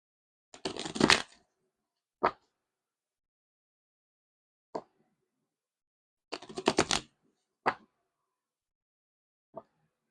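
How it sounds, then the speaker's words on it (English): Tarot cards shuffled by hand in two bursts of riffling, each followed by a sharp single tap, with a few isolated taps in between; close and clear, with no talking. "Let me shuffle the cards."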